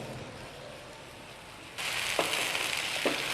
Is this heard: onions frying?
yes